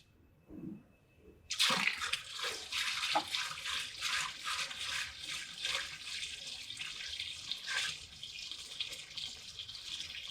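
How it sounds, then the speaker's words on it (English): Water gushes and splashes into a sump pit after a brief quiet start, a steady pouring rush with gurgling bursts, close by. "Now I'm going to introduce more water to the pit to activate the float for the backup pump"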